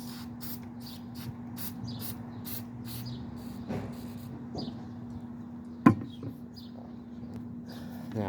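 Repeated short hissing bursts of an aerosol spray, close by, over a steady low hum, with a sharp clack partway through.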